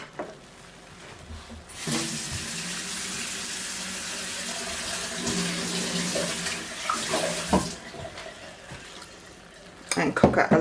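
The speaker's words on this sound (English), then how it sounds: "I'm just going to add a little bit more hot water" Hot water pours steadily into a pot of cooking rice risotto, a continuous rushing splash for several seconds that then stops, followed by faint clinks and a brief noisy handling sound.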